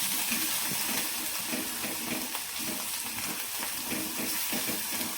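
An onion-garlic masala sautés on low heat in a pan for Patwadi rassa. It gives a steady, close sizzle and hiss with faint stirring scrapes throughout.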